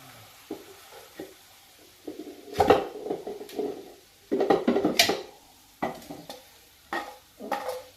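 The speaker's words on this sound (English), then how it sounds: "time to transfer to the wok and get everything in there" Flour-coated ossobuco pieces with stock are tipped into a wok and stirred, producing intermittent scraping, clattering and soft sizzling bursts in uneven rhythm, close and moderately loud, with quiet gaps between movements.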